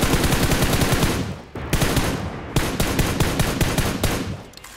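An M4 rifle in the mobile shooter PUBG Mobile fires long rapid automatic bursts, loud and close, broken by a couple of brief pauses.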